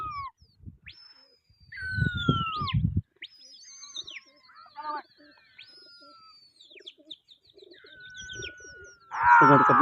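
Several pigeons call and whistle in sharp rising and falling notes during a pigeon-flying contest, with soft coos and a burst of chirping near the end.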